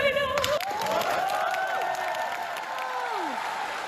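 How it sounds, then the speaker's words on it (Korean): A concert audience in China applauds after a performance, a thick, steady roar of clapping with scattered cheers and whoops, while a voice rises and trails off on top of the crowd noise. "공연을 마치자 객석에서 박수가 터져 나옵니다."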